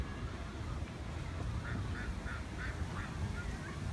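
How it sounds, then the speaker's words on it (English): Swans call from nearby water, a run of about five short, nasal honking notes at a steady pace over constant wind and background rumble. "Someone's afraid of swans."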